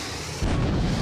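A single sudden blast from a gun fired at a boss in a Roblox horror game set in a haunted toy store, a loud booming burst that rumbles on briefly afterward.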